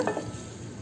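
Masala paste being stirred into softened tomato in a pan for a sardine fish curry, a short soft scrape with a low sizzle beneath, close and fairly quiet.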